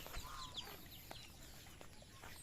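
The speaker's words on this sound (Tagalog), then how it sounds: "may kasalo pa siyang mga manok" Faint clucking of chickens somewhere off in the distance, scattered soft calls over a steady outdoor hiss.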